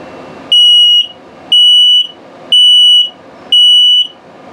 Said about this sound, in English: and then low battery alert